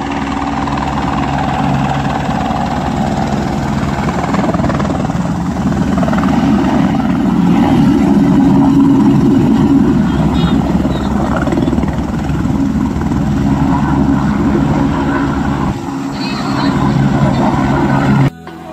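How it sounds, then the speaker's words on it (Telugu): Helicopter approaching the landing place at Kedarnath, a steady loud engine and rotor drone with low rumble that holds throughout, easing briefly near the end. "వస్తుంది చూడండి హెలికాప్టర్"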